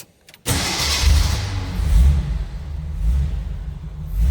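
A 1986 Jeep CJ7 4x4 engine cranks briefly and catches on a cold start, then settles into a loud, close, rough idle with the revs swelling and falling.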